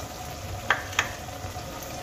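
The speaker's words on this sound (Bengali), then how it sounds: "এবার আমি এর মধ্যে দিয়ে দেব 3টে কুচিয়ে নেওয়া কাঁচা লঙ্কা" Chopped green chillies dropped into peas and tomatoes sautéing in a pan for aloo dum, giving a steady low sizzle with two short, sharp clinks of a spoon against the pan.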